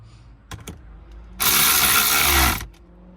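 A ratcheting wrench tightens bolts while a LED digital instrument cluster is fitted into a 2014-2019 Toyota 4Runner, giving a few quick clicks and then a steady, close, loud ratcheting burst of about a second.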